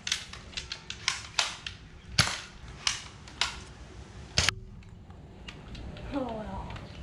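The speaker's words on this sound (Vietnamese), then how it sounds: "Súng này lên đạn chỗ này. Kéo ra bắn." A series of sharp pops from a Star Wars Nerf toy gun firing darts, about eight shots at uneven intervals, with quiet talk underneath.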